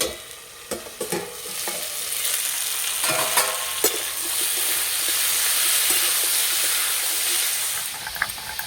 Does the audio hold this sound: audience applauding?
no